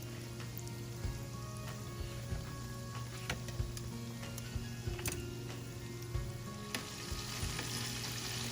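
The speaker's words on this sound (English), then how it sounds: "let's get to frying the rest of the chicken" Chicken pieces for sweet and sour chicken fry steadily in hot oil, giving a dense, continuous crackling sizzle with scattered sharper pops throughout, close and alone without any talk.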